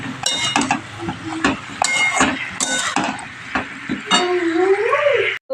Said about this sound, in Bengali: সবজিগুলোকে আমি ভালো করে অনেকক্ষণ ধরে ভেজে নেব